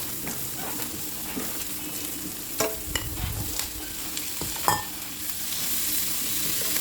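Onion and tomato go into a hot frying pan and sizzle steadily, with scattered clinks and scrapes of stirring against the pan, close and moderately loud.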